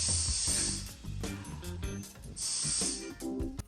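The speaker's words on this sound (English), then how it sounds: "I'm gonna stand about 6 inches away from the hairspray, and I'm gonna move my hair as I spray." Hairspray sprays onto hair held about six inches away while styling beach waves: two long, loud hissing bursts with a brief pause between, over music.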